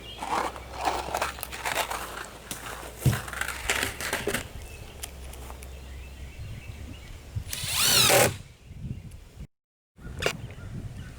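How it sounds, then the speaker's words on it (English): A power drill drives number 8 one-inch screws into a wooden stand for a 40-gallon breeder tank, giving several close, loud bursts of whirring and crunching that end in a sharp surge. "I'm going to be using number 8 1-inch screws."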